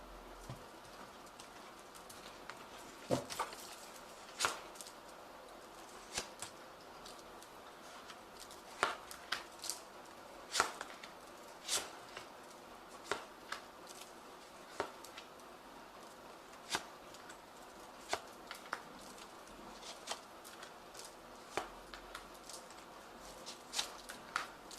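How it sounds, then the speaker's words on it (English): A deck of tarot cards being shuffled by hand indoors, producing a run of soft, irregular riffling and flicking bursts with sharper snaps scattered throughout, fairly quiet and with no voice over it. "I have shuffled this deck."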